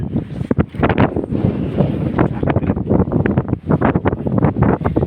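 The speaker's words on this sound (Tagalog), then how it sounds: "Malakas yung hangin dito." Loud, gusty wind at a hilltop park buffets the microphone in rough, roaring bursts that continue without a break throughout.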